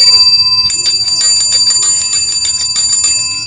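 A bicycle bell rings in a rapid series of bright, repeated trills, fairly loud and close, with a steady low hum underneath.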